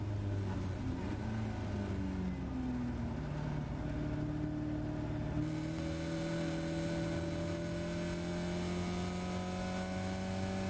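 Caterham race cars at full throttle at Oulton Park, heading into Lodge, their engines droning loudly and steadily with rising and falling pitch as several cars run together, with no voices.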